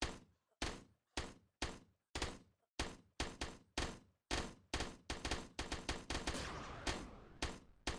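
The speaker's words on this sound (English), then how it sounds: "These railguns are good against the big enemies, but they have a recharge every single shot they fire." Railgun turrets firing in Project Astra Dominium, with loud, punchy impacts that each decay quickly. They start spaced out and grow faster and denser toward the end, with no voices.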